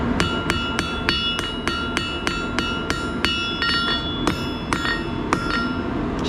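Sharp metallic hammer blows ring out on an anvil in a steady rhythm during traditional fire welding at a blacksmith's forge, about a dozen strikes, close and loud over a low background rumble.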